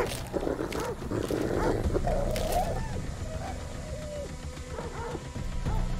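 A dog in the horror video game The Devil in Me growling and barking aggressively amid a dense, noisy game soundscape, snarls and yelps layered over a low rumble.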